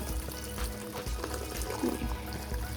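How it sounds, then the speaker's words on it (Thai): Tap water runs steadily while potted chili plants are watered, a continuous close splashing flow with no talking. "ปิดน้ำก่อน"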